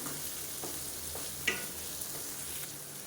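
Snake gourd stir-fried over a high flame, a steady close sizzle with soft scraping stirs of a spatula in the pan and one brief louder clink, no talk.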